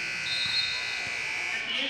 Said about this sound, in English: And the buzzer sounds at the end of the first quarter